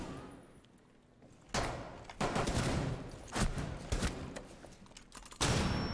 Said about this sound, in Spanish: Ahí delante, suenan muchos tiros.